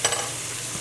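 Meat bones dropping into a pan of caramelizing tomato and onions, a brief crackle at the start giving way to a soft, steady sizzle that stays low and close.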